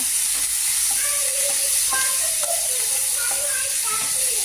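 Mustard seeds, green chilies, onion and curry leaves sizzle in hot oil, a loud steady hiss with scattered crackles and pops, while voices murmur faintly in the background.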